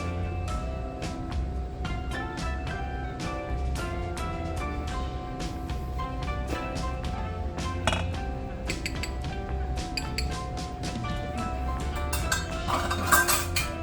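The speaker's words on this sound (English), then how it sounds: "you can keep using the whisk, but now with the flour in there, it's getting a little clumpier" A whisk clinks and taps against a bowl while mixing peanut butter cookie dough with flour, a rapid run of sharp metallic clicks, close and fairly loud, without talk.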